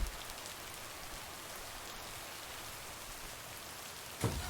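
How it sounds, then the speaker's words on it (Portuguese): Steady rain falls in the video game Lake, a soft, even patter with no voices that continues throughout, ending in a brief louder thump. "Ih, chovendo."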